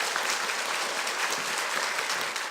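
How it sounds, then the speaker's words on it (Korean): An audience at a public lecture on the constitution bursts into sustained applause, a dense, even wash of many hands clapping with no break, fairly loud and uninterrupted. "박수로 청해 보겠습니다."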